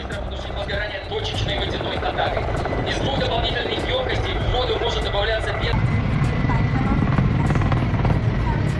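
A Russian Kamov Ka-32 twin-rotor firefighting helicopter gives off a continuous, loud rotor and engine roar that holds steady throughout and grows a little heavier in the low end partway through.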